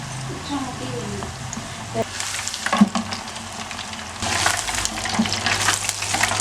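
Chicken pieces for Korean fried chicken deep-fry in hot oil, bubbling and crackling. The frying swells louder partway through, and a voice talks over it.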